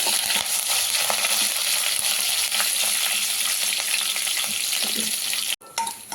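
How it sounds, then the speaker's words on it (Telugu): A tempering of crushed garlic, curry leaves and dried red chillies fries in hot oil for a bitter gourd dish, giving a dense, continuous close-up sizzle with faint stirring clicks before a sudden brief cut. "ఇది ఫ్రై అవుతున్నప్పుడే మనం దంచి పెట్టుకున్న వెల్లిపాయ, కొంచెం కరివేపాకు, ఎండుమిర్చి అయితే ఫ్రై చేసుకోవాలి."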